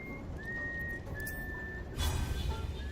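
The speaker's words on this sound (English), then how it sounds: "Always someone fucking whistling." Whistling from a character in Baldur's Gate 3: a thin, sustained whistled tone in a few held phrases, fairly clear over a steady game ambience, followed by a louder rumbling burst near the end.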